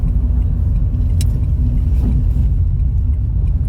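A car on a night drive between Ashton-under-Lyne and Wigan gives a steady, close interior rumble of engine and road noise, constant throughout with no voices.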